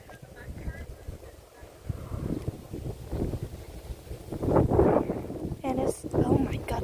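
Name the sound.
wind blowing on microphone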